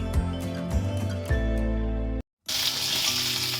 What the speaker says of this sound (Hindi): पैन लिया हमने और इसमें हम थोड़ा सा ऑयल डालेंगे और इसमें लहसुन डालेंगे।